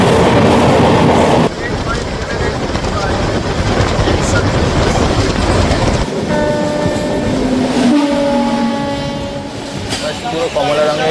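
The Rupasi Bangla Express train from Purulia to Howrah rumbles loudly along the track with a dense rushing roar and rhythmic clatter, its horn sounding in sustained tones partway through.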